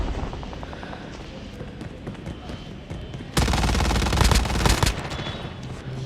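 Rapid automatic gunfire from Call of Duty Mobile, a steady stream of shots that swells into a louder, denser burst midway through, with other game sounds underneath.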